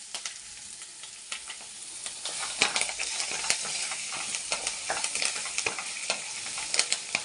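Tomato chutney with dried red chillies frying in a pan, a dense crackling sizzle with frequent sharp pops and spatters growing busier over time.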